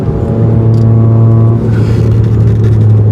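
A Tata Altroz CNG three-cylinder engine with an aftermarket exhaust idles and revs loudly up close, giving a deep steady droning burble with a slight throttle rise midway.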